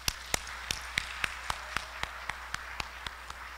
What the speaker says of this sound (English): May we give them one more round of applause?